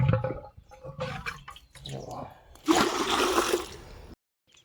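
Tap water pours into a small container in one loud, splashing burst that lasts over a second and then cuts off, after a few fainter drips and knocks.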